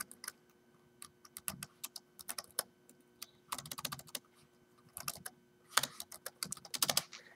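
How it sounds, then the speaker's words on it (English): Keys clatter on a computer keyboard in quick, irregular bursts of close, crisp clicks with short pauses between them, typed into a spreadsheet in a quiet room. "I'm going to type statement."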